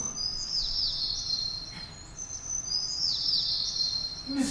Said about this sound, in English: Even the birds mock me.